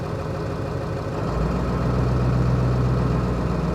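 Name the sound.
Ford 7.3 Powerstroke diesel engine idling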